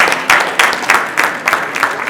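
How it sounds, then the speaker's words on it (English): An audience claps loudly together in a short burst of applause at a real estate event, the rapid hand claps swelling in uneven waves for about two seconds. "she deserves a round of applause"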